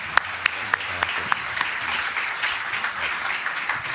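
A seminar audience gives steady, moderate applause as guests are welcomed onstage, an even patter of many hands with a few sharp nearby claps standing out.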